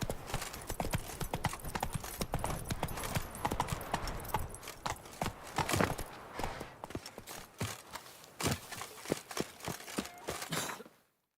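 Roach the horse's hooves clip-clop steadily in The Witcher 3, a loud, close rhythm of hoofbeats carrying on to the end, with a soft breathy sigh or snort among the steps.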